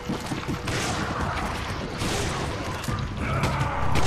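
Gunfire in the Resident Evil 5 video game: a dense, loud burst of repeated shots and metallic clatter running throughout, with crashing impacts mixed in and no talking.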